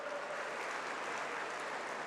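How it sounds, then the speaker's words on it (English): A hall at a national conference of CA students fills with a steady wash of clapping from the audience, dense and continuous, fairly faint, with no voices over it. "Have a huge round of applause for Chitrak sir."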